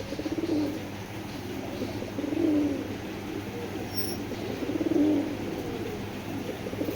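Pigeons of tournament flying stock coo in slow repeating swells, a soft throaty rolling call rising about every two and a half seconds over a steady low background hum.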